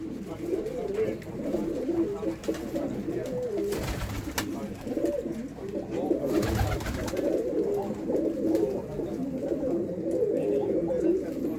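Pigeons in a loft, mostly males of old breeds, cooing steadily in a continuous low murmur of overlapping calls, with a couple of brief louder rustles partway through.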